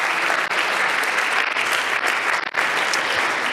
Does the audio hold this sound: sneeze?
no